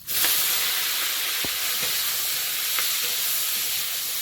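Five-spice seeds frying in a little hot oil in a wok, giving a steady sizzling hiss with faint occasional pops and crackles, close and continuous with no talk.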